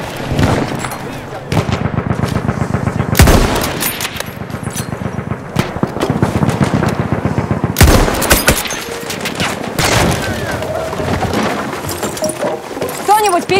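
Battlefield 1 battle on the Volga River with heavy gunfire and loud blasts, including a sharp explosive burst near the start and another mid-way, amid constant automatic fire and shouted voices.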